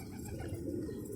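Pigeons in a loft housing about 400 birds, their soft cooing and rustling forming a steady low murmur close by throughout.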